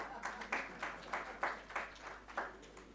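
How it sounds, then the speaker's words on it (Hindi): An audience at an international human rights event claps in a steady rhythm, about eight distinct clap bursts in a row, moderately distant in a hall with faint background hum. "बजा दें ताली."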